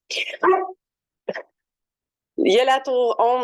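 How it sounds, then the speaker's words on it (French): A pet dog barks and yips for attention in a home, with short sharp bursts between stretches of close French speech. "ça c'est mon chien qui veut mon attention comme d'habitude"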